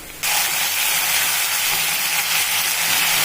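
Two finely chopped onions drop into hot oil in a pan and start frying with a sudden loud sizzle, then a steady close hiss and crackle that carries on unbroken.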